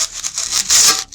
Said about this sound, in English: And you're going to take it and you're going to cut it down.